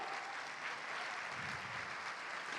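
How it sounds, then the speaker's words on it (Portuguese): A church congregation applauds the Lord during a sermon, a faint, even wash of many hands clapping at a distance. "aplauda o Senhor"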